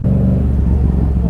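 A Ferrari engine rumbling up close, giving a loud, steady low growl with a pulsing exhaust note throughout a short burst.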